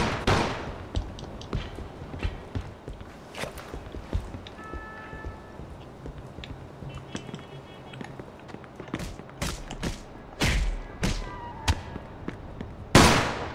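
Gunfire in the video game Mafia II: a scattered series of sharp shots and cracks of varying loudness, some near and some farther off, spread across the whole stretch, ending in a loud close burst.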